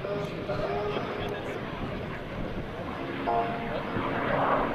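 A 1952 F-86 Sabre jet passes overhead at an air show open house, a steady broad roar filling the whole clip and swelling slightly toward the end, with a voice talking over it.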